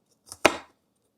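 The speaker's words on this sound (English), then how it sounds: "Give them a good chop." A single sharp knife chop onto a cutting board, preceded by a lighter tap, as vegetables are gathered and chopped; close and clear, then silence.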